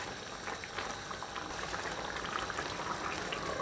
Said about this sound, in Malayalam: നന്നായിട്ട് തിളച്ച ഈ കറീനെ ഒന്ന് ജസ്റ്റ് ഒന്ന് ചുറ്റിക്കാം